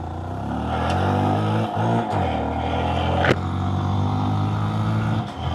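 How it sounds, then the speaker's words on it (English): Dirt bike engine idling steadily with a low, even mechanical drone and a rattling vibration from the skid plate, close and continuous with no talk. "A little vibration in the skid plate makes it sound bad, but the engine is running smooth."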